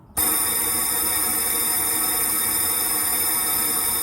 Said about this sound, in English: I can go ahead and start blowing the air out